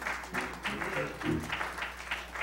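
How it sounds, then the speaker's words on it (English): A Baptist church congregation claps along during a Sunday morning sermon, a brisk rhythmic patter of many hands with a voice sounding over it. "Come on, clap your hands this morning if you believe that."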